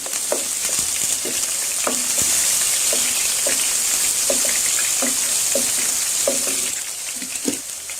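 Onion frying in a pan gives a steady close sizzle, with a spatula stirring and scraping in regular light knocks roughly every half second throughout; no talk.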